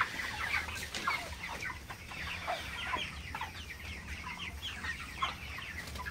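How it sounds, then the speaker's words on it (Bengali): Many large broiler roosters cluck continuously nearby, overlapping in a busy, steady chatter with no talking. "এই হচ্ছে মুরগি।"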